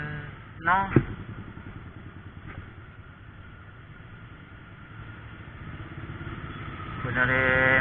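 A Honda C70 motorcycle, set up in racing trim, runs steadily while being ridden along city roads, its engine droning close and constant with a couple of sharp clunks early and a rev rising near the end.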